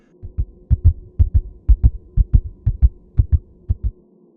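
Heartbeat sound effect for a scary story, a steady run of deep paired thumps, lub-dub after lub-dub, loud and close over a low hum, about a dozen beats with no voices.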